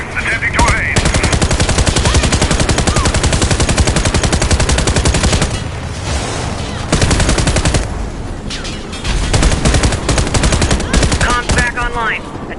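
Heavy sustained automatic gunfire from the Warface shooter game, loud and dense rapid bursts filling nearly the whole stretch, briefly easing midway before resuming, with radio-style voices faintly in the mix.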